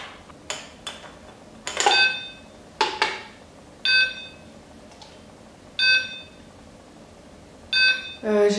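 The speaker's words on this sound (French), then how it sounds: "j'ai l'alarme qui sonne" A beeping alarm goes off in repeated short bursts, roughly one per second, loud and close, with brief pauses between some beeps and no talking over it.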